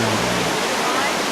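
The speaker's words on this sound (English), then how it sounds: "listening to the immense power of the falls" Niagara Falls roars at the Cave of the Winds, a loud, dense, unbroken wash of falling water filling the whole moment with no break.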